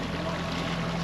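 A sailboat's Volvo Penta inboard engine running on open sea, a steady low drone with a constant hum, close and even throughout with no talk.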